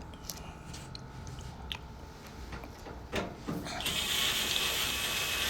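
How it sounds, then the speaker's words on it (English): A Phillips screwdriver turning out the front panel screws of a Kenmore Elite gas dryer, giving a faint ratcheting, grinding whir against a steady hiss, followed by a louder broad rush of noise near the end. "we have a Phillips head screwdriver that releases the front panel"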